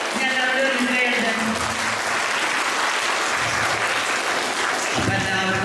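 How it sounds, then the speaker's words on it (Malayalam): A music programme crowd bursts into full, steady applause that fills the room, with a voice speaking over it at the beginning and end. "ഇനി എല്ലാവരും കൈയടിച്ച്"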